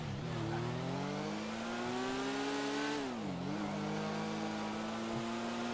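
A motorcycle in the GTA RP game passing by, its engine droning steadily with a brief dip and rise in pitch as it goes past, fairly faint and without talk.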